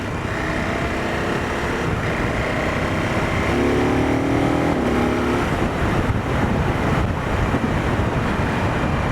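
Steady, loud wind roar buffets the microphone while riding a KTM 1290 Super Adventure S motorcycle at speed on faster roads, with the engine droning underneath and a brief rising gear-change whine partway through.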